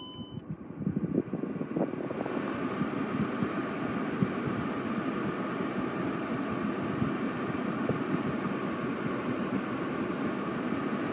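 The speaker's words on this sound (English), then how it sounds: "replaced the air conditioner climate control blower motor on my 2007 E-350 W211 Mercedes Benz" Climate control blower motor of a 2007 Mercedes-Benz E-350 W211 running after replacement, a steady whooshing rush of air with a low hum that rises at the start and then holds constant, with a faint high tone above it.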